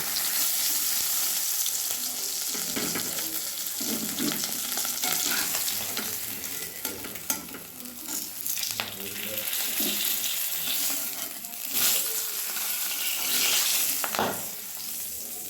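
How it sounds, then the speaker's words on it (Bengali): Loud, steady sizzling of rohu fish frying in hot oil, with bursts of crackle and a few utensil scrapes. "মাছগুলো ভাজা হয়ে গেছে, এবার আমি"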